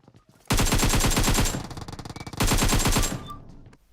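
Automatic gunfire from the PUBG Mobile video game rattles in two long, rapid bursts, close and loud, with a short quieter gap between them and no talk.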